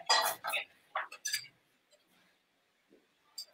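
A few sharp metallic clinks and clanks of a saucepan of milk being set back on a stove burner, close and brief, followed by quiet.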